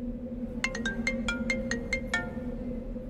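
A telephone ringtone sounds while a call is being placed in a Hindi TV drama scene, eight short bright electronic tones in a quick, slightly uneven run over a low steady hum, fairly quiet.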